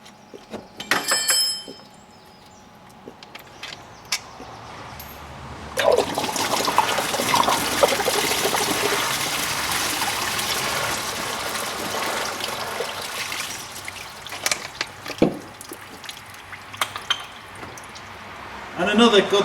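Coolant water drains from a Volkswagen Golf engine into a catch container during a timing belt job, a steady close trickle and gush that runs for several seconds, with brief handling noises before and after.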